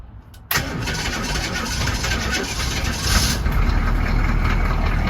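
A diesel Chevrolet squarebody truck engine cranks and fires after the glow plugs are left to warm, then settles into a loud, close, steady idle that runs without a break.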